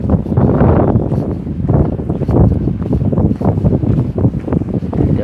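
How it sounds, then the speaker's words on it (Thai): Strong cold wind buffets an outdoor microphone with a steady, loud low roar that surges and rustles continuously, with no other clear sound. "ลมหนาว"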